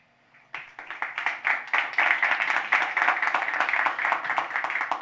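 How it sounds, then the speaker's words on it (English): An audience claps and applauds at a startup hangout event, a dense, steady patter of many hands that starts abruptly and keeps going without talk. "I hope someone is clapping"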